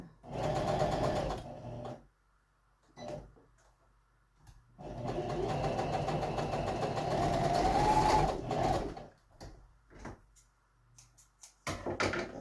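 A sewing machine stitches a flat seam along braided cord for a pillow, running in a short burst, then a longer steady whirring run and a few brief stitches, heard close-up with pauses between.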